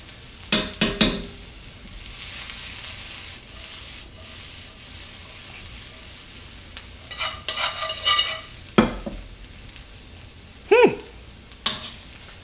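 Diced red onion frying in a pan gives a low, steady sizzle, broken by occasional scrapes and knocks of a utensil, clustered near the start and at intervals later.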